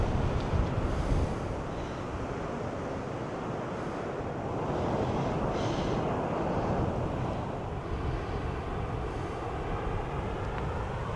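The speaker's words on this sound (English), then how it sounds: "Ooh, that wind." Strong coastal wind roars and buffets steadily near a paved path above a waterfall, with surf rumbling underneath throughout.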